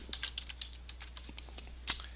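Keys clatter on a computer keyboard as layer names are typed in a storyboard drawing program, producing a quick, even run of light taps ending in one slightly louder keystroke, close and with no talk.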